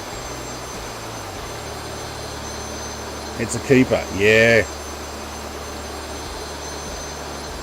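A Cessna T-37B Tweet jet trainer in Microsoft Flight Simulator, its engine holding a steady, even whine and hum throughout, with someone briefly speaking over it.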